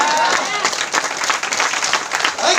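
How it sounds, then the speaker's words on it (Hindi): Audience at a seminar breaks into brief, fairly loud applause, many hands clapping together for a couple of seconds with some voices mixed in. "तालियां तो बनता"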